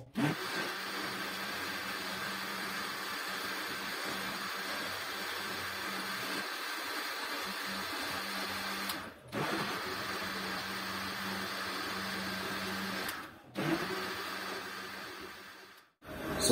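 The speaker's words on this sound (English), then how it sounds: "Make sure when once you blend, you make sure that all of the ground particles are completely blended" A blender grinds groundnuts into a protein shake, a loud steady motor whir running continuously with two brief dips where it stops and restarts, no voices over it.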